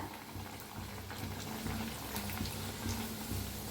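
Tomato puris fry in hot oil in a home kitchen, giving a continuous dense bubbling sizzle that stays close and steady throughout, with no voices.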